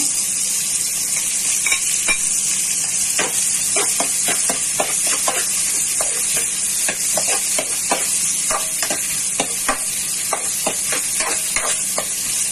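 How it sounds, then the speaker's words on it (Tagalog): Garlic sizzles and fries in a hot pan for Kapampangan chicken tinola, a steady bright hiss broken by frequent crackles and pops, close and continuous with occasional stirring. "Lagyan na po natin ang ating bawang."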